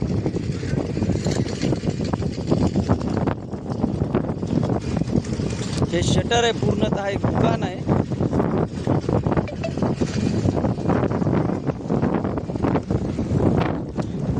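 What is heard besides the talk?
strong wind with rain starting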